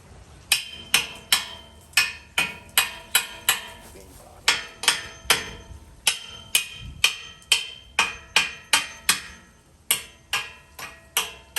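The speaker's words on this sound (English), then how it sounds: "Open it up a little bit with the hammer." Repeated sharp metallic taps from a hammer striking brick, steady rhythm of about two per second, close and fairly loud.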